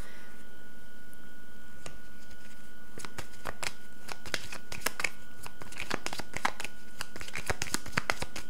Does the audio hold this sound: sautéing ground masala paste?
no